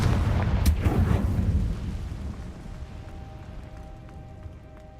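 A Confringo fire spell detonates in Hogwarts Legacy with a loud, heavy booming blast that rolls off into a fading rumble, with no one speaking.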